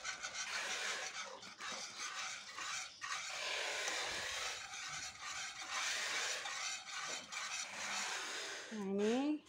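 Flour mixture for a ragout stirred with a whisk in a pan over low heat, a steady scraping and rasping that runs continuously with brief pauses, ending in a short squeaky sound.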